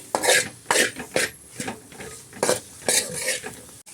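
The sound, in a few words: soya masala frying and being stirred in oil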